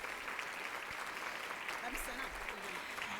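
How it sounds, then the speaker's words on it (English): Steady applause from an audience at a morning keynote, dense continuous clapping filling the room for a few seconds with no pauses. "Please applaud."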